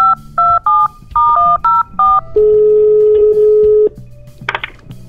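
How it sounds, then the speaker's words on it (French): A telephone keypad dials a number in a quick run of about eight two-tone beeps, then a long steady tone follows. It ends in a brief burst of other sound, with no talk over it. "Oui, voilà, je compose."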